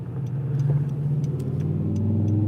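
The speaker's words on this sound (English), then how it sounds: "There's no reason for him to take off so harshly to put out a big cloud of exhaust" A pickup truck takes off hard and accelerates with a steady, loud low engine roar close by, heavy exhaust note building throughout with no talking.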